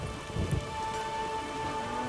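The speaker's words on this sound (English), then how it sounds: "Maybe we needed a spot of rain." Steady rain falls in the world of The Witcher 3: Wild Hunt, a constant hiss of drops on surfaces with a brief heavier patter early on, with no voices.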